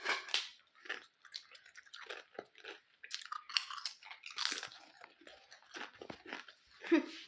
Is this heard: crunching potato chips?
yes